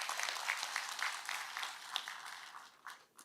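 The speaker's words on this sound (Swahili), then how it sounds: "So nataka mpigie waziri makofi kidogo." An audience applauds the minister at a public gathering, a brief burst of clapping that fades toward the end.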